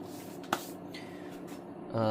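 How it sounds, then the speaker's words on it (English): Avocado oil sprayed into a Lodge 11-inch seasoned cast iron skillet gives a short, close hiss, preceded by a sharp tap, over a quiet indoor background. "I'll just spray some of this oil in there."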